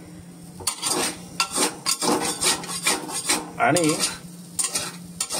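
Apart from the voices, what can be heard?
stirring dal mixture with coriander in a pot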